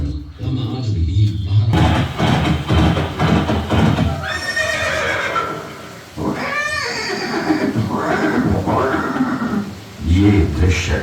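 A horse, Chetak of Maharana Pratap, neighs and whinnies repeatedly at close range, with hooves clip-clopping and a staged dramatic soundtrack behind it.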